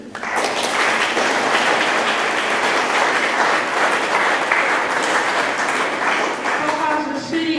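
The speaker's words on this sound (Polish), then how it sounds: "Brawa dla nich." Audience applause at a Polish school ceremony honouring first-year students, a dense, loud, sustained clapping from a large crowd filling the hall, tapering slightly at the end with a voice emerging.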